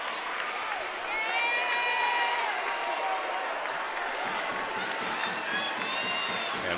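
A packed high school gym crowd at a boys basketball game between South Charleston and St. Albans, a broad, steady roar of cheering and clapping that swells slightly and then holds, filling the whole space.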